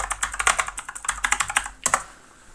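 Rapid typing on a computer keyboard, a close, crisp run of clicking keystrokes in an uneven rhythm, ending with a slightly heavier key press before a short pause.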